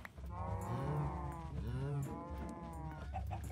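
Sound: cow mooing in a video game

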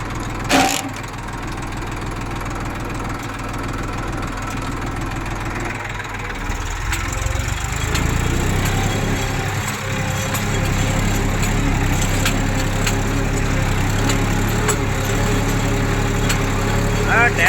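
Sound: tractor engine running

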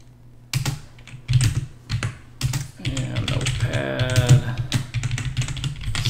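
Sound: typing commands on a computer keyboard

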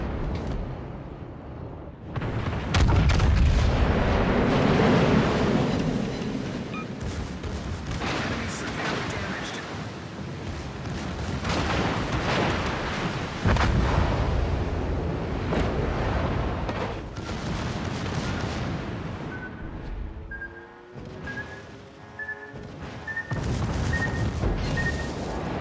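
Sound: battleship gunfire in World of Warships: Legends video game

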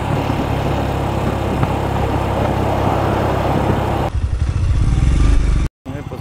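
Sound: Royal Enfield Scram 411 motorcycle riding

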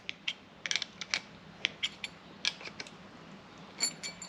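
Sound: screwing a brake line double-flaring tool tight

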